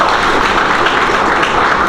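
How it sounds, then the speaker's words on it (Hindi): A crowd at a bank awards ceremony honouring branch staff gives loud, sustained applause, dense clapping at an even level for the whole stretch. "उन शाखाओं के लिए एक बार जोरदार तालियां बजाएंगे"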